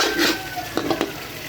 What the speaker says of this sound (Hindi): अब मैं इसमें तकरीबन 3 टेबल स्पून दही डाल दूँगी और इसको इस तरीके से